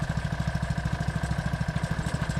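A gold mining trommel's small engine runs steadily after being cleaned of dirt and rocks, with a fast, even chugging pulse that is close and loud, and no voices.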